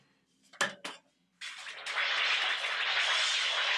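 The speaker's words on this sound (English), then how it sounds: "this thing is called a sizzle strip" A sizzle strip, a bendy metal strip like tape measure material mounted on a stand, gives two sharp metallic clanks, then after a pause a sustained bright shimmering sizzle rings on steadily, close and clear.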